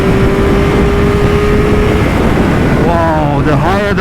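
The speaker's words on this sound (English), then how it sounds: "Wow, the higher the RPMs, the just more exciting it gets." A Triumph Street Triple RS motorcycle engine hums steadily while riding, then revs up with climbing pitch near the end, all under constant loud wind rush.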